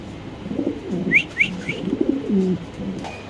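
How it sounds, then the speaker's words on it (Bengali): Large show homer pigeons coo in a few soft, low, throaty phrases close by, with a couple of brief higher chirps from another bird mixed in. "এখানে আছে একদম শো হোমা কবুতর আপনি দেখতে পাচ্ছেন মাশাআল্লাহ, বিগ সাইজের কবুতর"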